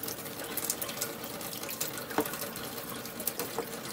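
Water runs steadily from a Kangen SD501 water ionizer for several seconds, a soft, even hiss of flowing water heard close and alone, with no voices.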